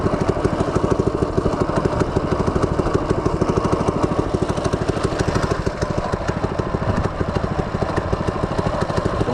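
An FRP GMB 100 retro mini bike's small engine idles steadily close by, a fast, even putter with a rough mechanical chatter that holds constant throughout with no talk over it.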